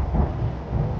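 Low, rolling thunder rumbles in a horror film's soundtrack during a lightning storm, a deep continuous growl that briefly swells and fades.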